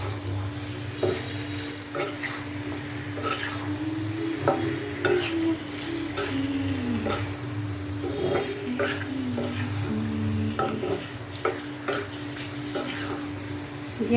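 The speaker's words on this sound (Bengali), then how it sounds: "মশলাটা কষানো হয়ে গেছে, এখন হচ্ছে মাছটা কষায় নিব" Fish stir-fried in a spice masala in a pan, a steady close sizzle with repeated spatula scrapes and clinks against the pan throughout.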